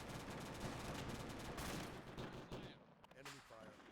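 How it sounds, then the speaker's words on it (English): Dense enemy gunfire in a military operation, rapid overlapping shots crowding the first two and a half seconds, then thinning to scattered bursts with shouted voices. "Enemy fire."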